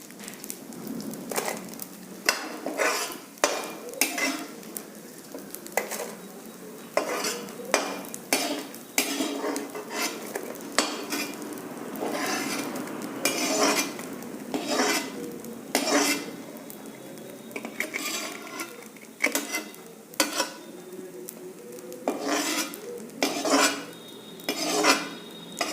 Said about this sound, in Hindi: गोंद फूलता जा रहा है और इसको अब मैं एक प्लेट में शिफ्ट कर दे दूँ।